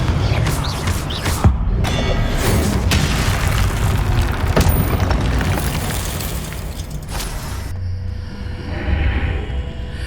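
Confringo fire spell from the Hogwarts Legacy video game: a long, loud, rumbling explosive boom with crackling bursts and thuds that rolls on for several seconds, then fades to a lower roar, with no talk.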